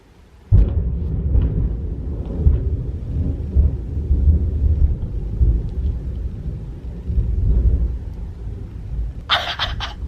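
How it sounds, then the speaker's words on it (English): Thunder from a storm after a lightning flash, a loud, sudden crack that opens into a long, deep, rolling rumble that keeps going and ends in brief higher rustling, near and heavy, with no talking. "Did y'all see that lightning?"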